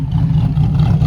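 A Ferrari F430 coupe with a Fabspeed exhaust and carbon fiber tips rumbles loudly and steadily at close range in a brief, deep, continuous burst of engine noise.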